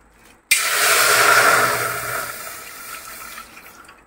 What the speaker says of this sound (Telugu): పాలు పోస్తున్నా